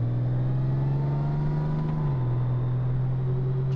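A steady touring motorcycle engine drone, Honda Goldwing or BMW K1600B, holds one pitch while cornering, then dips slightly lower midway, loud and close with no voices.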